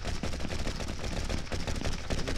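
Continuous rapid gunfire from a shooter video game level built in The Last of Us style, dense overlapping bursts that are loud and close, with no pauses across the whole stretch.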